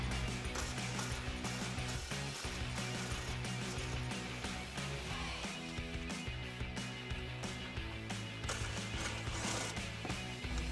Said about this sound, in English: I'm using that same 13 millimeter socket with an extension.